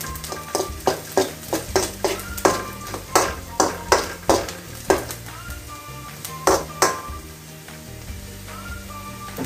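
Onions for an anchovy fish curry fry in a pan with a steady sizzle, while a utensil stirs and scrapes in regular clinking strokes over it.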